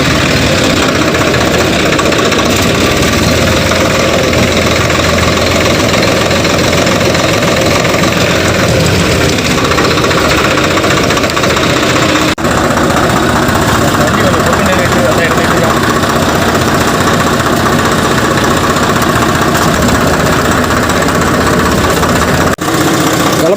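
A tractor engine runs steadily and loudly through the whole stretch, a dense continuous idling rumble with a knocking texture and no pauses, heard up close in a village work setting.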